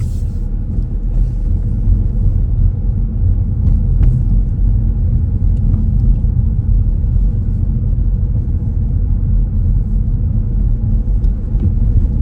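A car engine rumbles at a low, steady pitch as the car pulls away gently during a driving test on suburban Dublin roads. The sound is a loud, continuous in-cabin drone with no talk heard.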